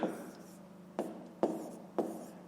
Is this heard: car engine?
no